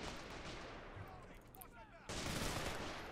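Tank guns fire high-explosive shells in the Men of War: Assault Squad 2 video game, heard as a dense rumbling barrage of booms that dips midway and then surges back louder, with faint game sounds mixed in.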